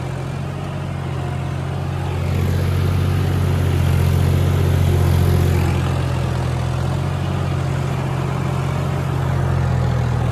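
A John Deere 4x4 tractor engine runs steadily on a farm, a loud, continuous low rumble that swells slightly partway through, with no talk over it.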